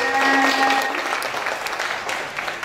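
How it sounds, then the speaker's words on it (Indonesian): An audience at a dance practice-as-research seminar applauds a presenter, a full burst of clapping that starts loud with a faint sustained tone underneath, then thins out gradually toward the end. "tepuk tangan untuk Mas Siska"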